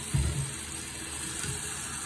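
Hydrogen peroxide pours from a bottle onto a toothbrush at close range, making a short, soft liquid splash and trickle against a faint steady background hiss.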